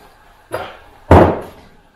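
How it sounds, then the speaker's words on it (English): Two dull, heavy thuds from a rubber mallet driving a dust cap onto a trailer wheel hub, the second much louder and ringing briefly, close and with no talk. "you do have to hammer them on for the most part. I don't recommend using a steel hammer. I recommend using a rubber mallet."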